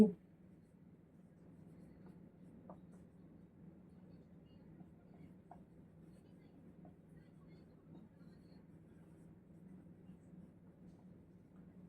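Marker or chalk writing on a board during a physics lecture, faint soft scratching strokes over a low steady hum, with no speech.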